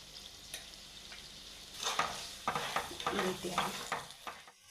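Sugar melting into a light syrup in a pan for milk burfi, with a soft sizzle and a run of quick spoon scrapes and taps as it is stirred, quiet at first then busier.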